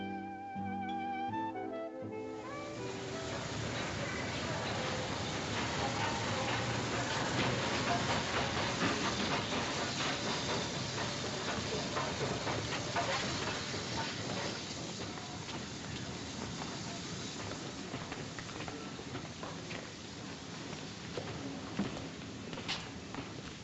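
A steam train leaving for Paris in a 1948 film hisses loudly and steadily throughout, a dense continuous rush of steam with faint rail clatter underneath and no voices.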